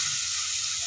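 Garlic, onion and tomato sizzle steadily in a frying pan, a close, continuous hiss of sautéing with no talk.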